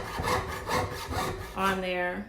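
Hand filing metal: several rhythmic rasping strokes of a file biting into metal, fairly close and moderately loud, followed by a short spoken remark at the end.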